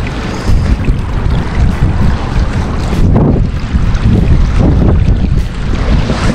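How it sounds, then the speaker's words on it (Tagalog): Strong wind blowing at sea aboard a fishing boat, a loud, constant rushing roar buffeting the microphone with water noise beneath, no talking. "Medyo mahangin."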